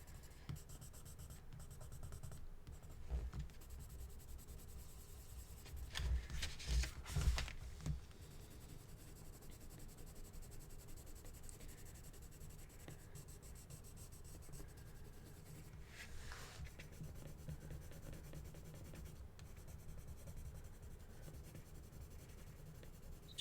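Polychromos colored pencils shading skin tones on paper with light pressure, a steady soft scratchy scribbling that runs continuously near and alone, with a few slightly louder strokes partway through.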